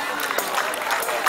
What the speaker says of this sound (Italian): quindi facciamo un grandissimo applauso a tutti loro